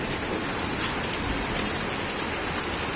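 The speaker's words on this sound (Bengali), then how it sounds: "এখনো কিন্তু শিলাবৃষ্টি হচ্ছে।" Hail and heavy rain pour down during a storm in Dinajpur, northern Bengal, a dense, loud, continuous hiss of pelting ice and water with no voices.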